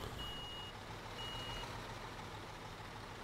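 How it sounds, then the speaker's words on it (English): A truck in Construction Simulator backs up, two evenly spaced high reversing beeps over a steady low engine rumble. "This truck seems to back up better than the original truck as well."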